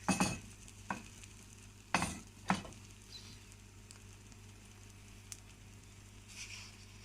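Peppers fry in a pan with a soft, steady sizzle, broken by a few sharp stirring scrapes near the start as a utensil pushes them around; the sound is close and moderately quiet, with no voices.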